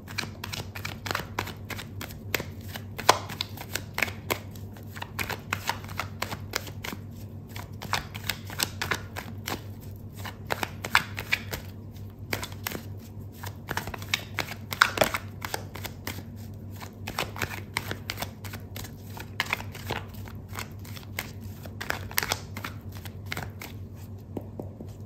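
A deck of tarot cards is shuffled repeatedly, producing quick papery riffles and soft slaps that recur steadily and close by, with no talking over them.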